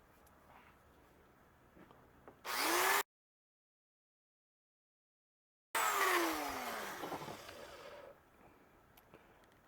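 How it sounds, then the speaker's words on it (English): A Dremel rotary tool fitted with a sanding disc grinding a handmade bushcraft awl, two loud whining bursts of motor spin-up and abrasive contact separated by a silent gap, with quieter shop ambience around them. "now I'm going to use my Dremel tool with a sanding disc and clean it up a little"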